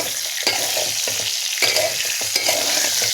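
Pointed gourd fries in oil over low heat, a continuous close sizzle broken by several scraping stirs of a spatula in the pan, with no speech.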